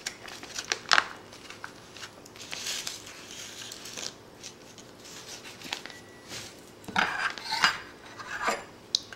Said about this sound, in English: So we're just going to put it in there and tamp it down.